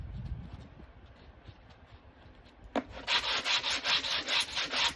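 Light rhythmic rubbing of sandpaper on a wooden round, quiet at first, then about eight even back-and-forth strokes close by.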